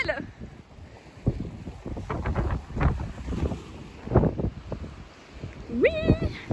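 Strong coastal wind at Le Conquet in Brittany buffets the microphone in gusty low bursts, with surf nearby and people talking over it.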